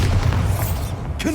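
A Bombarda spell explodes in Hogwarts Legacy with a single loud, deep boom that rumbles briefly and then fades, ending with a faint tonal swish.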